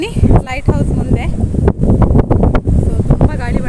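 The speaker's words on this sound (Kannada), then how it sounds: "ಸೊ ತುಂಬ ಗಾಳಿ ಬರ್ತಾ ಇದೆ." Strong coastal wind at Kapu beach in front of the lighthouse buffets the microphone with loud, rumbling gusts. A person talks throughout under the roar.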